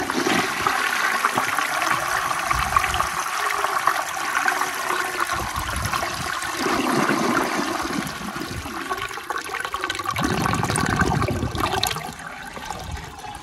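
A 1920 Standard Ejecto toilet flushing on weak water pressure: a loud, sustained rush and gurgle of water lasting about twelve seconds, then tapering into a quieter trickle near the end.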